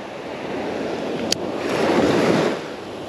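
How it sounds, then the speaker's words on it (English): A light east wind blows over a sandbar by the sea, with soft steady rushing and surf swelling gently near the microphone and a brief click midway; no one talks. "It's a light east wind today."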